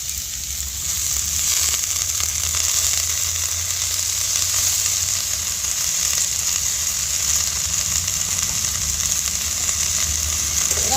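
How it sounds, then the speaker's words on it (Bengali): Chopped leafy greens (shak) fry with spices in a pan, giving a loud, dense, continuous sizzle that holds steady from start to finish, close up with no voices. "মশলার সাথে শাকটা ভালো করে কষিয়ে নেব"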